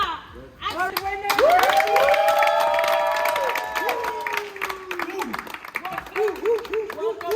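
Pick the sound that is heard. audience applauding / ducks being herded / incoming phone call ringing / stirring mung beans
audience applauding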